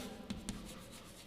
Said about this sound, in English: here you can write down the full address